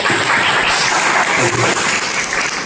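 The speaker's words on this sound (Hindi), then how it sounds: "सर के लिए प्लीज जोरदार तालियां हो जाए।" Audience applause fills a Women's Day celebration hall, a dense, steady wash of many hands clapping loudly and continuously throughout, with no talk over it.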